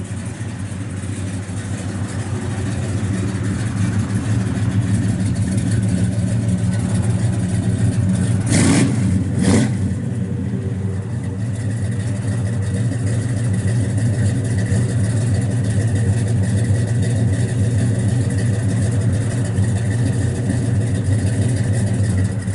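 A 1967 Chevrolet Chevelle SS 396 with an upgraded cam idles with a deep, steady exhaust drone, then briefly revs up twice before settling back into a constant rumble; no voices.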